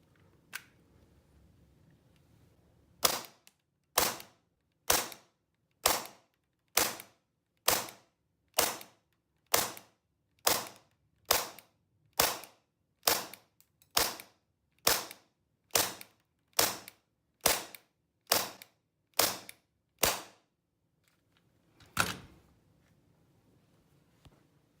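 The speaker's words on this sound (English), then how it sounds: "now we're going to test the extended magazine, and hopefully it's an improvement over the factory mag" An RA-Tech gas airsoft gun with an extended magazine fires about twenty sharp, evenly spaced shots in a steady semi-auto rhythm. A single last shot follows after a short pause, and there is no talking.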